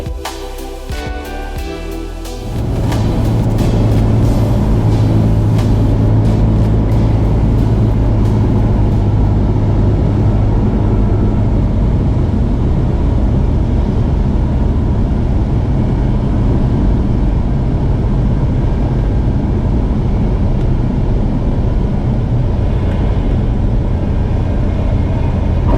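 A Cessna 172 touches down on the runway at Trenton Mercer, heard from inside the cockpit as a loud, steady engine and wind roar that swells after a brief quieter opening and continues unbroken to the end.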